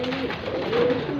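Punjabi pigeon cooing close by, a soft, low, rounded coo that swells and falls over about a second, with a steady quiet hum behind it.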